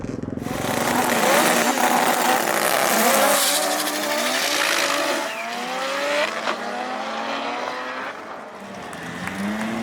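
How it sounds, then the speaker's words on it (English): Honda cars drag racing at a large Honda car meet and show, engines roaring loudly at full throttle with tires squealing and revs rising and falling, crowd noise mixed underneath. "let me show you guys some drag racing for a few minutes"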